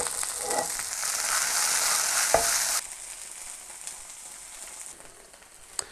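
Wild mushrooms sizzle loudly in a hot frying pan, a dense steady hiss that drops abruptly to a quieter frying crackle partway through, with a faint clink near the change.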